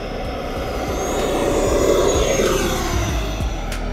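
E-Flite Viper 90mm electric ducted-fan RC jet taking off with half flaps: a loud, steady whooshing fan whine that swells slightly mid-run and holds, with no voices.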